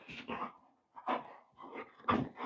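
A dog whimpers close by in short, soft whining bursts with brief pauses, fairly quiet and alone.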